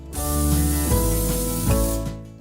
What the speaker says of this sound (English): I'm gonna go ahead and spray it.